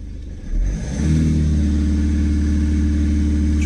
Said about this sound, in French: Le moteur s'est mis à accélérer tout seul.